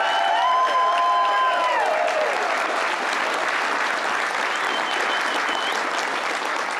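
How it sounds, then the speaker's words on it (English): Dense, sustained applause from a crowd at a political concession speech fills the room, loud and even throughout, with a brief whistle-like tone and faint cheering early on. "Please give him another round of applause."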